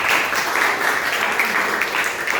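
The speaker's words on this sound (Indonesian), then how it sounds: "Beri tepuk tangan meriah untuk kelompok 3." Classroom applause for a student group after their presentation: a brief, steady wash of clapping from many hands, fairly loud and close, with no talk over it.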